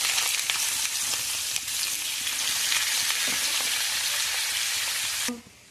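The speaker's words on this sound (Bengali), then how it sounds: "তেল গরম হয়ে গেছে, আলু ভাজাটা ছেড়ে দিই।" Potatoes fry in hot oil in a small pot, giving a loud, steady, close sizzle that runs unbroken and then cuts off near the end.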